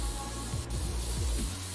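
A can of compressed air hisses steadily in the video game PC Building Simulator as dust is blown out of a PC, a continuous airy spray with faint rubbing under it and no talking.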